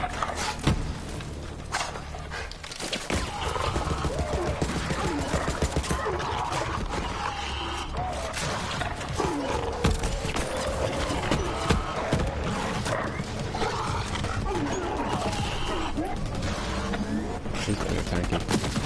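Rifle gunfire and a grenade-launcher secondary fire from Moze in Borderlands 3, dense bursts of shots and blasts running throughout over a busy game soundscape with music and effects.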